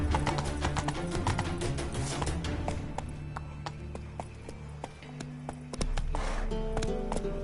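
Horse hooves clip-clop in a steady galloping rhythm in The Witcher 3 video game, sounding fairly close amid game music and ambient sound, with a brief voice near the start.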